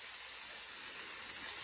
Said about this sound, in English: I've got my onions on the stove here, sauteing those up in my garlic infused olive oil